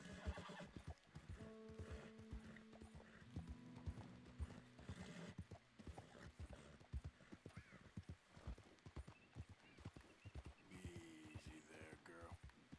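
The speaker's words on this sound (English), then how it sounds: "let's slow down on my horse here" A horse in the Red Dead Redemption 2 video game clip-clops along at a slowing pace and lets out whinnies, with a voice talking over the hoofbeats.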